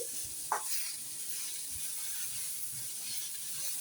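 Peas, potato and ginger garlic paste heat in a pan, giving a steady close-up sizzle with a brief clink of utensils early on and no talking.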